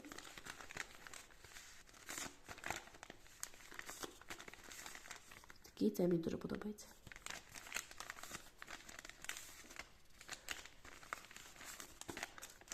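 Crinkly paper packets rustle and crackle as they are handled close by, with a louder burst of crumpling midway and a voice speaking briefly.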